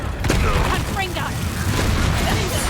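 A Confringo fire spell detonates in the Hogwarts video game, a loud, dense wash of booming blasts and crackling debris that runs through the whole moment, with a voice over it.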